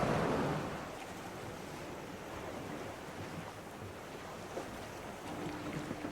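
Rowing toward shore on a foggy day at high water near the Heron Neck lighthouse off Maine, with steady surf and wind noise filling the scene and a boat moving through the water, no voices.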